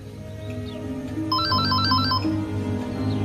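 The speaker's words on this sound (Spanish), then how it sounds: "Sassy, el teléfono." A telephone rings once with a warbling electronic trill over a steady low background hum, fairly close, with no voices.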